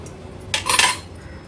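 A small bowl is set down into a pot of rice during vegetable biryani cooking, giving one brief, close metallic clink and clatter that stands out against a quiet background.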